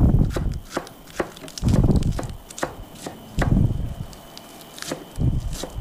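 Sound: chopping spinach leaves with a knife

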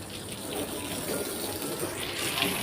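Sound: water spraying while washing a car

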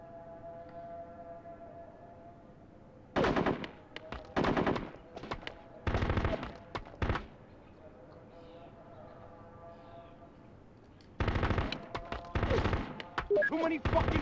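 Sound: heavy machine gun fire in video game Full Spectrum Warrior

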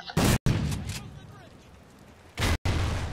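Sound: fireworks exploding in a video game modded lobby

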